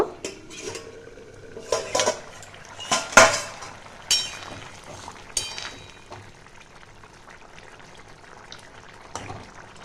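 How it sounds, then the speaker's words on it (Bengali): A metal lid clanks and scrapes as it is lifted off a pot of boiling potatoes, followed by several sharp utensil knocks and soft bubbling at close range. "এবার ঢাকাটা আমি খুলে দেখব।"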